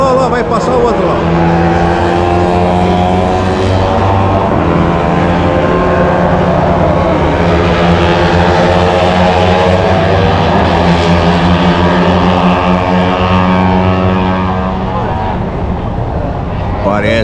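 Honda 250cc Moto2 racing motorcycles scream past at a MotoGP event, a loud sustained high-revving engine whine with rising and falling pitch as the bikes pass close, with a voice talking over it.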